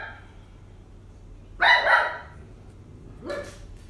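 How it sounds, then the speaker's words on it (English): A pet dog barks indoors, giving one loud, doubled bark followed by a shorter, softer bark after a brief pause, against a quiet room hum. "That's just my dog."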